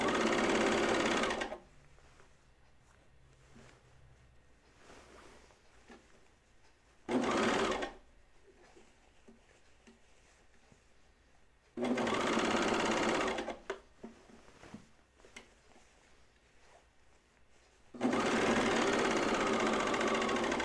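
A sewing machine trims and stitches dress fabric for a Bleuet dress in several loud bursts of fast whirring stitching, each a second to a few seconds long, separated by long quiet stretches with faint handling noise.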